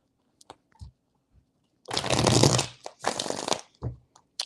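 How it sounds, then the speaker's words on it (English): Tarot cards being shuffled by hand, two loud riffling bursts of rapid card flutter separated by a short pause, with soft taps and handling sounds around them, close up. "3 shuffles."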